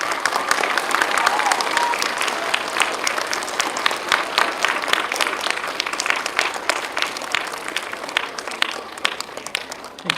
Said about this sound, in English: You guys can give a round of applause.